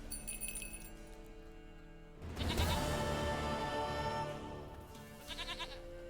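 A goat in The Witcher 3 video game bleats in a drawn-out, wavering cry over a soft ambient music backdrop, with faint chiming notes at the start and end.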